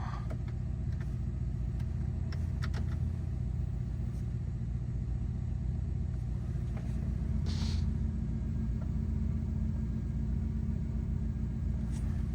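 Engine of a Ford Crown Victoria idling while warming up after a tune-up with a cleaned throttle body and new spark plugs and coils, a steady low, smooth rumble heard close with no talk.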